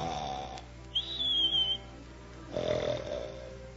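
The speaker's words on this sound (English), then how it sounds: "can't you arrange to snore a little quieter?" A comic snoring sound effect from a 1940 radio comedy broadcast: a rough snore, then a thin high whistle on the exhale and another rasping inhale, close and fairly loud with no talking.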